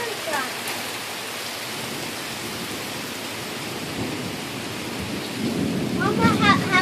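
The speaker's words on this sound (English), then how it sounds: "Look at how fast the thunder is coming" A thunderstorm with strong wind drives sideways rain in a steady hiss, while low rumbling thunder swells and grows louder toward the end; a voice is faintly audible briefly near the close.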